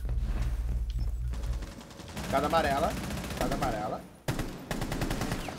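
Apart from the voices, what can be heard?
gunfire in a video game (Rainbow Six Siege)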